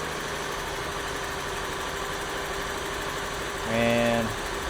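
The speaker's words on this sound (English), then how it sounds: "And the engine's misfiring big time." Overheated Jeep engine idling and misfiring in a steady, continuous drone, with a short louder surge near the end.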